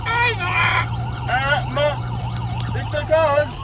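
A toy or pretend siren wails and warbles in rising and falling sweeps during a pretend emergency response to a dislocated shoulder, glitching in and out with a steady hum beneath and no voices.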